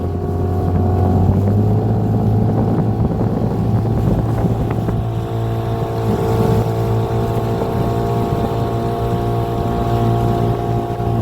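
A Hangkai 18 outboard motorboat engine drones steadily at close range, with a constant low hum, wind buffeting the microphone and water rushing underneath.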